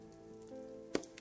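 Soft, steady rain patters on a surface, quiet and continuous, mixed with faint tones and a brief sharper tap near the end.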